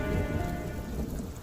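Steady heavy rain pours with low rumbling thunder on a stormy night in a dark forest, dense and continuous throughout with no voices.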